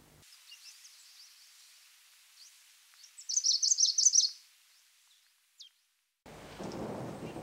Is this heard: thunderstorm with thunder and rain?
yes